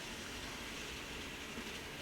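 A DCC model train rumbles steadily along track inside a tunnel, a continuous muffled rolling noise with no distinct clicks, heard close and alone.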